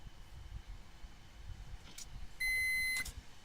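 A single electronic beep rings out outdoors at night, a steady tone lasting about half a second, over a low rumble of breeze.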